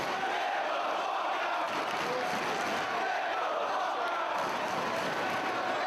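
A large wrestling crowd roars and jeers at Claudio during an ROH World Title match, a dense continuous wall of voices that stays loud throughout, with a commentator's voice faintly mixed in.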